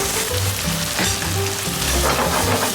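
Olive oil sizzling in a pan while baby scallop and squid sauce cooks for fusilli pasta, a steady, loud crackling fry close up with faint utensil stirring and no talking.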